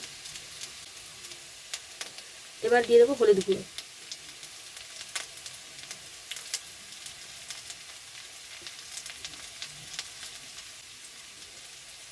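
Potatoes, onion and green chilli fry in a pan for a puti fish and potato jhal, giving a low, steady sizzle throughout. A brief spoken remark cuts in near the start.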